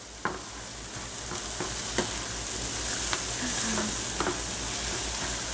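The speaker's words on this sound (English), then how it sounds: "Keep sauteing it on medium heat" Tofu scramble sautéing in a pan over medium heat, a steady close sizzle and fry with a few light clicks and scrapes of stirring, no voices.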